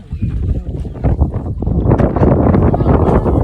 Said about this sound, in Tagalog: O yun na, malakas na hangin.